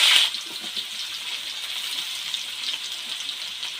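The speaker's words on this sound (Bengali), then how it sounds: "আলুটা আমি এইভাবে কেটে নিয়েছি, এবার তেলের মধ্যে দিয়ে দেবো।" Cut potatoes dropped into hot oil in a kadai hiss with a loud burst at first, then settle into a steady, close, dense frying crackle with no talking.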